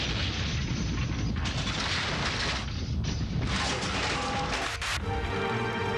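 Severe earthquake shaking recorded inside all-night convenience stores: a loud, continuous roar of rumbling, rattling and crashing as shelves and goods are thrown about, with no talk.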